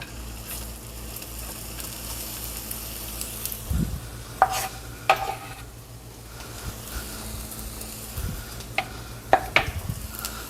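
Onions sautéing in a tablespoon of oil in a pan, a quiet low sizzle with a few sharp clinks and stirring scrapes scattered through it, no voices.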